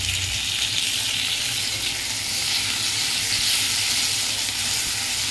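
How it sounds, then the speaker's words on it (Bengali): Chopped tomato frying in a pan after onions for a Bengali tilapia jhal, a steady close sizzle with hiss and occasional stirring, continuous throughout with no talk. "টমেটোটা একটু ভেজে নেব ভালো করে।"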